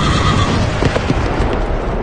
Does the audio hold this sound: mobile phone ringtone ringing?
no